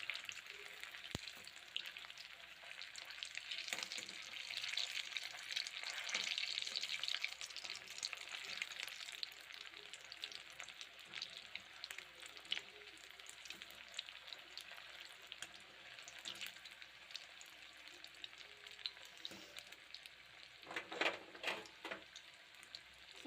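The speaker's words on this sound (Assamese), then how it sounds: "দুই চাইডে ভালকৈ ভাজি ল'ব লাগিব।" Soybean kofta balls frying in a pan of hot oil for a vegetarian soybean kofta curry, giving a steady, close sizzle throughout with a few louder crackles and stirring sounds near the end.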